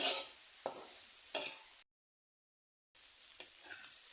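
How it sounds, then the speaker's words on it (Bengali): Fenugreek greens being stirred and fried in a pan, with a steady sizzle broken by soft scraping strokes, a short silent gap, then more stirring and sizzling. "শাকগুলো নেড়ে চেড়ে ভাজা ভাজা করে নিয়েছি"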